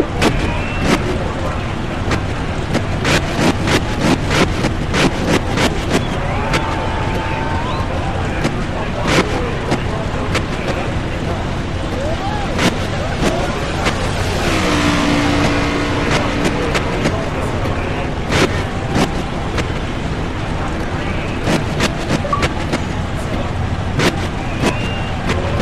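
Race car engines roar steadily through an all-star race, a continuous loud drone with many sharp clicks and surges, while a voice talks over them at times.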